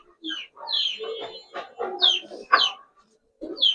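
Old-breed Giribaz pigeons calling at close range, a run of burbling coos and throaty notes in short bursts with brief pauses between them.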